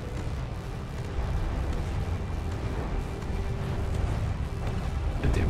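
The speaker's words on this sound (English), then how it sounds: "Big hit on our tank." Heavy explosion from a hit on a tank in the naval combat game From the Depths, a dense low rumble with continuous battle noise throughout, loud and sustained.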